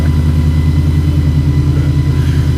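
A recreated 700hp Porsche 917 engine idles as it warms up, a steady, close, low pulsing rumble throughout with no voices.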